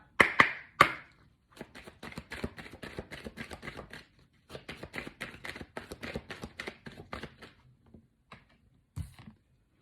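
Gaia oracle cards being shuffled for a draw: a few sharp slaps at the start, then long runs of quick riffling taps, pausing midway and ending with a thump.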